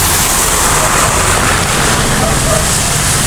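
Overflowing floodwater near Panggalaan, Naujan, Oriental Mindoro, a loud, steady broadband rush with heavy wind noise buffeting the microphone, no distinct pauses.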